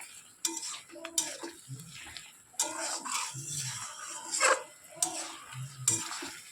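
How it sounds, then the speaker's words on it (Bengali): Kochur loti, taro stolons, are stirred with mustard paste in a pan: repeated scraping strokes of a spatula against metal in an irregular rhythm, with soft thick squelching and light sizzle between strokes, close and clear without talk. "ভালোভাবে নেড়েচেড়ে মিশিয়ে নিচ্ছি।"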